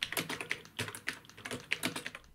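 Keys clatter on a Low Profile replacement keyboard for the ZX Spectrum, producing a steady run of crisp, close taps in uneven bursts without pause.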